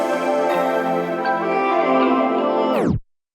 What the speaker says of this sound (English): I'm using the tape stop plugin from Keylab.